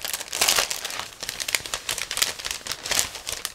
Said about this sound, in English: two plastic sprues, which are packed into the same plastic bag, so I'm going to open them first